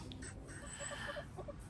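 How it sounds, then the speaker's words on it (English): Chickens cluck softly around the listener outdoors in a backyard flock, with short repeated hen calls scattered over a steady low background; a neighbouring rooster is not clearly distinct. "I'm actually surrounded by chickens at the moment, and I've got the neighbour's rooster crying as well."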